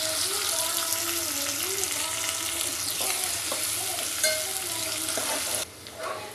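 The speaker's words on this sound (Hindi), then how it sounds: "अभी मैं इसको फास्ट थोड़ा भून कर लेती हूँ" Onions and chicken pulao masala fry in a pan with a constant crackling sizzle, punctuated by repeated scraping strokes of a stirring spoon, close up, before the sound drops sharply near the end.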